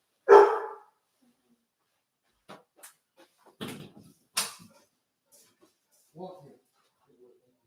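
A dog barks in a few separate, fairly close bursts spread across a mostly quiet indoor stretch, with some faint knocks and shuffling between them.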